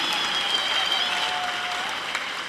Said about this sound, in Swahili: Tumshangilie Baba Askofu Mkuu kwa makofi mengi.